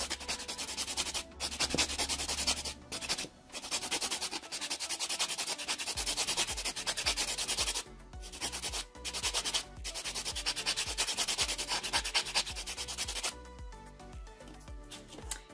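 A nail buffer block rubbed over a fingernail during a nail refill, quick close rasping strokes in bursts with brief pauses, soft and dry throughout.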